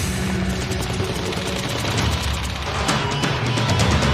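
Rapid bursts of gunfire from a police shootout, dense and loud, with overlapping shots crackling continuously throughout and no talking.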